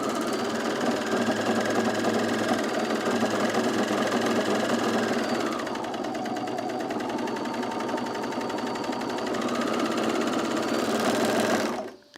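An overlocker runs continuously along a woven fabric seam, a loud, fast, even mechanical whir that eases slightly in pitch midway and stops abruptly near the end.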